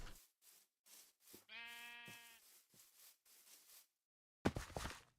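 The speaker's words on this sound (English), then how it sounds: "Lots of sheeps and stuff over here." Sheep bleat in a Minecraft world running the SevTech Ages modpack, one clear drawn-out wavering bleat standing out among short scattered game sounds and quiet gaps.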